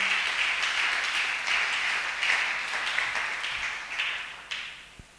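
A church congregation applauds with sustained, loud, dense clapping that carries on steadily before thinning out and dying away near the end.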